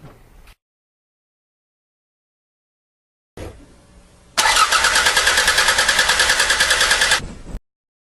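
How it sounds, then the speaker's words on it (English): A car engine starter cranks with a rapid, even rhythm for about three seconds, loud and close, after a few quiet clicks and a brief pause, with no talking. "listen to a normal engine starter sound, and you'll hear that it's really nice and even"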